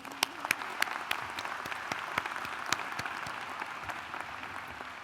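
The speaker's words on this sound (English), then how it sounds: "Another round of applause for them" Audience at a St. Thomas University commencement ceremony claps steadily, a moderate even patter of many hands with a few sharper individual claps, heard alone without talk.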